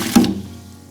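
Warm brine with apples, bay leaves, cloves, red pepper and salt being poured into a 5-gallon container: a short, close, loud splash that quickly fades to a faint trickle.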